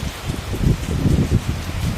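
Heavy rain falls in a constant rushing patter, with gusty, uneven low rumbles that swell and ease as if wind or a downpour on nearby surfaces shifts, close to the microphone and without speech.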